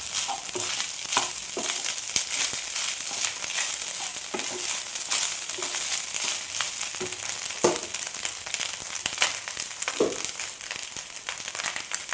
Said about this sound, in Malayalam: ആ ചോറിലേക്കിട്ട് മിക്സ് ചെയ്യാം